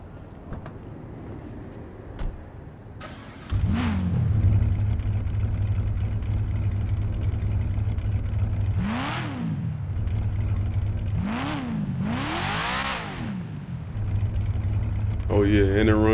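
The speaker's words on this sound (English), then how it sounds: "I'm about to see like what the exhaust sounded like in a minute." Car exhaust in GTA V revving repeatedly at a car meet: a steady engine drone starts a few seconds in, with several loud rising rev bursts in the middle and near the end, close and prominent.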